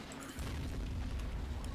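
A low, muffled boom from a shot in the Men of War video game lands early and leaves a rumbling tail, heard at a distance and fairly faint.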